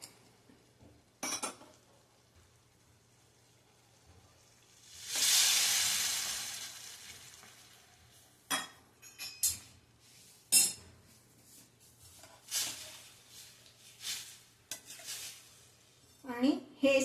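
Hot water poured into a pan of cooking guava hisses and sizzles in one loud burst, set among light clinks of a utensil and pan in a quiet kitchen.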